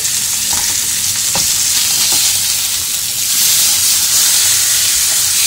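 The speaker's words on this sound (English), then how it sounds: "let's cook this steak" Steak sizzles loudly and continuously in a hot pan, a dense close hiss of searing with a few brief clinks and knocks over it, no talking.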